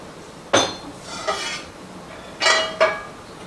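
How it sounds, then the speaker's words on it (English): A metal skillet is handled and set down on a stovetop while oil goes in, giving four short clanks and scrapes spread across a few seconds, close and fairly loud with no talking. "let me get some oil on my skillet"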